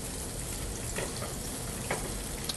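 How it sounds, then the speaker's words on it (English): Salmon fillets searing in a hot pan, giving a constant dense sizzle and crackle with a few brief sharper spurts. The sound is close and steady, with no talking. "Make sure you have a nice little sizzle sound."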